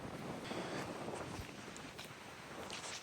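Wind gusts over a mountaintop in the Shenandoah National Park backcountry, a faint, steady broadband rush buffeting the microphone, with light scuffing sounds mixed in and no talk.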